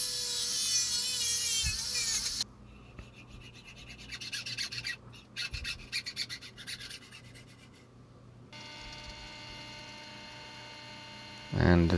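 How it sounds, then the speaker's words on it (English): A drill boring holes in G10 handle material for a bushcraft knife, a steady hum and rasping bite with brief pauses and a change in pitch partway through, fairly close. "And drilling the holes in the handle material."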